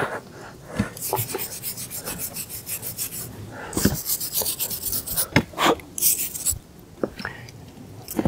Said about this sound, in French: j'ai aussi une petite brosse qui est là, qui va me servir du coup à brosser les prises